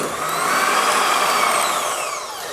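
Electric mixer beating cake batter with eggs in a bowl, a loud steady whirring hum with high whining tones that rises and dips slightly, close up and continuous with no talk.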